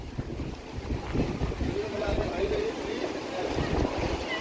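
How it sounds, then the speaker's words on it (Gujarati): Strong wind buffets the microphone on Nagoa beach in Diu, a steady broadband roar that fills the whole clip, with people talking faintly underneath. "સખત પવન ફૂંકાઈ રહ્યો છે બાકી પણ."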